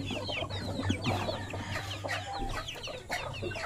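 Several chickens cluck and chatter continuously at close range, with overlapping calls and a steady low hum in the background.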